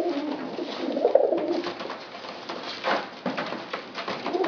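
Domestic pigeons, including an ash red bar spread homozygous Grizzle, coo softly in a loft, with low repeated murmuring calls and light rustling throughout.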